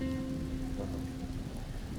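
Steady rain patters down in the Mr. Prepper game, a dense even hiss that holds at one level from start to end with no voices over it.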